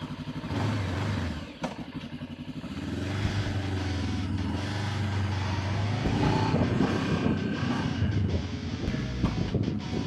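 A Cyclone RX600 motorcycle engine runs close by with a steady, droning mechanical hum that briefly dips and then holds a firm, even note, with no talking.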